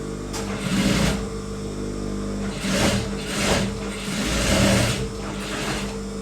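A sewing machine stitches a folded belt strip onto a pair of pants in a tailoring lesson, its motor whirring in repeated surges that rise and ease over several seconds, close and steady.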